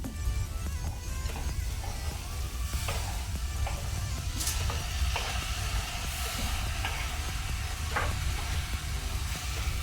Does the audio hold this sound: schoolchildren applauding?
no